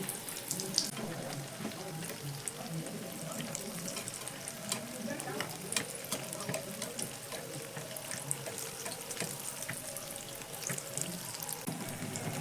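Flattened rice and potato snacks frying in oil over a medium gas flame: a continuous, moderately quiet sizzle scattered with small crackles and pops, steady throughout.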